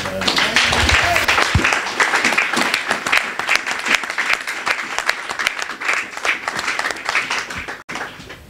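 A church congregation applauding during a French-language worship service, steady loud clapping from many people that carries on for several seconds with voices mixed in.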